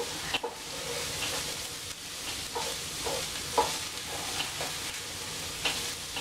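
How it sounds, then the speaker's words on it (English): Cauliflower frying in fat with onions and garlic for cauliflower risotto, a constant sizzle with intermittent clicks and scrapes of stirring, nearby and moderate in level, with no talking. "let's put our cauliflower in. Coat that in the fat."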